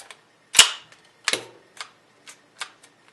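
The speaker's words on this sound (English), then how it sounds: "Then we're going to lock this gun back." An STI DVC pistol makes a run of sharp metallic clicks and clacks as its slide is locked back during assembly, close and crisp with short gaps and no talking.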